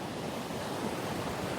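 Ocean surf washing steadily along the Gulf shore at Topsail Hill on Florida's 30A, a continuous broadband roar of waves with a light wind edge, close and even, no voices.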